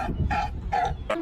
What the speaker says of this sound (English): California Sea Lion